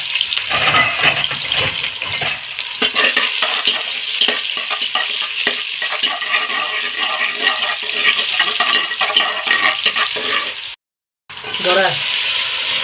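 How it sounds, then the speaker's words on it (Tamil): Onions go into a pan of fish curry in a home kitchen in Qatar and get stirred, giving a steady sizzle with scraping and stirring throughout and a brief gap near the end. "வெங்காயத்தை போட்டு ஒரு தாள் கலந்து விட்டுவோம்"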